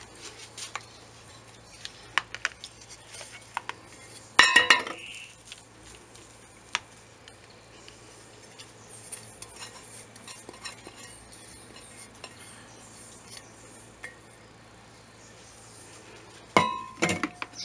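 A utensil clinks and scrapes against bowls while hibiscus is moved into a larger bowl for oil-making: sparse light taps, one louder clatter early on and another near the end, over a quiet, faintly humming kitchen.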